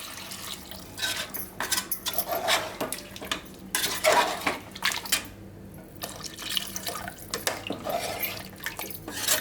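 Water splashes into a pot of mutton kola urundai curry amid clinking of metal utensils and stirring, with intermittent bursts of pouring and scraping close by.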